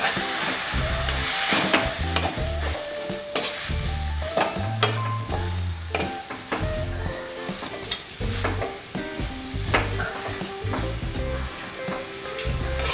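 Zunka, a besan dish, is stirred in a kadhai with hot water added, giving close, repeated scraping and tapping strokes of the spatula against the pan over a steady sizzle.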